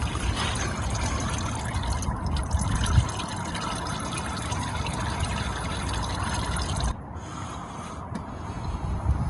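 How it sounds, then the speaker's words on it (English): Automatic transmission oil draining steadily from a ZF 6HP gearbox into a pan, a continuous splashing trickle that runs unbroken for the whole stretch, close by and fairly loud, with no talk over it. "I'm going to let it drain a little while"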